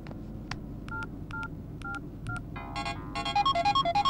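Mobile phone keypad dialing tones in a Kannada suspense thriller film: several separate, evenly spaced dual-tone beeps, followed by a quicker run of louder tones over a steady low background hum.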